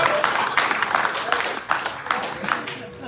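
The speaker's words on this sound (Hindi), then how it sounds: "इसके लिए 2 बार तालियां बजाएंगे।" Wedding guests clap in a couple of bursts at a Hindi wedding ceremony, the applause rising and falling over a steady murmur of voices from the gathering.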